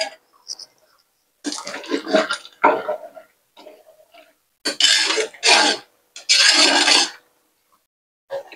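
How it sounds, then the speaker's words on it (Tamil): Dalcha curry is stirred in a cooking pot, short scraping and rubbing strokes in uneven bursts separated by silence, close and fairly loud, with no talk. "இப்போ நல்லா கிளறி விட்டு மூடி போட்டு வேக வச்சிருவோம்"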